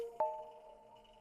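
A dry synth patch built in Massive, played with no reverb or delay: one sustained, steady tone with a sharp attack partway in, then slowly fading, heard alone.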